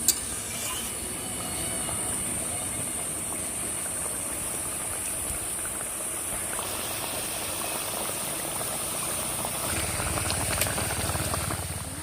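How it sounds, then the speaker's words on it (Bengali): Gravy for a village-style rui fish curry boiling in a pot, a steady soft bubbling simmer with a faint hiss, continuous and even at close range with no voices. "ঝোলটা ফুটে গেছে এবার আমি মাছগুলো দিয়ে দেবো"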